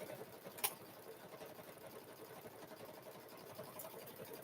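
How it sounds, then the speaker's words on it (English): A quilted Grinch handbag is stitched on a sewing machine, which gives off a faint, rapid, even chatter throughout, with a couple of brief clicks over the top. "Just keep a stitching, just keep a stitching"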